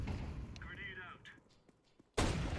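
A grenade in the Blast Rivals video game detonates near the end as a sudden loud, close blast that rings out for about half a second, after a stretch of quieter game sounds and a voice.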